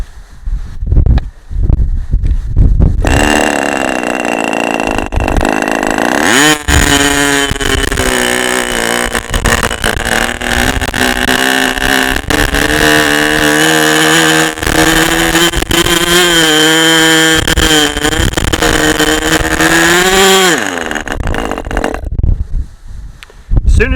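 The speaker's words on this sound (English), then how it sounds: "Not sure what's wrong with this engine." A Fox 19BB model RC glow engine runs continuously at high revs with a loud, buzzing, steady whine that wavers in pitch, starting after a few seconds of handling noise and cutting off near the end.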